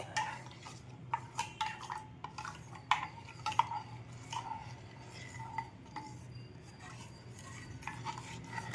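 Dried ginger powder and black pepper powder being stirred into a mixture in a metal bowl, with a spoon scraping and clinking against the sides in irregular taps over a low steady hum.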